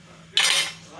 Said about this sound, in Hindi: मैं आपको स्पून से भी निकाल के थोड़ा सा दिखाती हूँ।